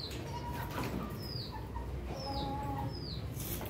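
Aseel rooster crowing alongside other chickens, faint calls repeating a few times over a steady outdoor background hum.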